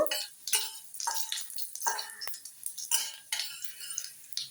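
Cumin seeds and two green chillies stirred in hot oil for masala oats: a spoon scrapes the pan in short repeated strokes over a faint sizzle, close and moderately loud.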